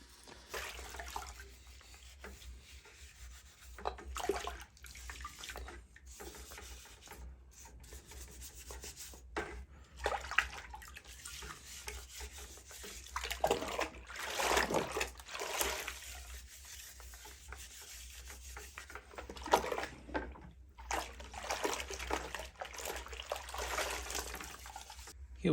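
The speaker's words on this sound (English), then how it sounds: "This is going to go in some warm soapy water." Parts from the top end of a 1980 TS185 two-stroke engine, ports included, are scrubbed in warm soapy water, giving irregular bursts of rubbing, brushing and sloshing close by with brief pauses, and no talking.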